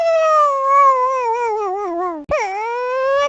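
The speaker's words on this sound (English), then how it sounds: "incredibly insane sound designs, from the Pikmin voices" Pikmin creature voices from the Pikmin video game: a long, high, wavering cartoonish cry that dips, breaks off briefly, then resumes alone and clear.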